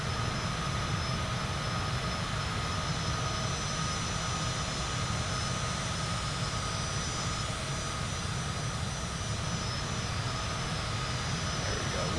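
Steady, continuous drone of an aircraft engine in Microsoft Flight Simulator 2024, a constant cabin hum and roar at even loudness throughout, with no change in pitch or level.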